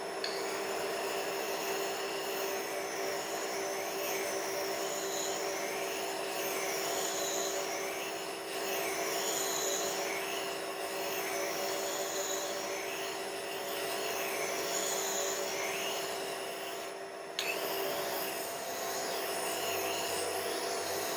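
A glass beveling wheel grinds steadily against a glass edge, giving a continuous abrasive whir with a faint rhythmic swish as the piece is worked, constant and close with no voices.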